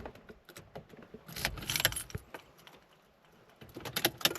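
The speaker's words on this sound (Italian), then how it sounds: "andiamo a inserire le chiavi" Car keys jangle and clink near the microphone as they are handled and pushed into a Toyota's ignition, with bursts of metallic rattling separated by quieter pauses.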